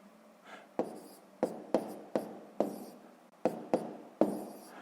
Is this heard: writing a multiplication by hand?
yes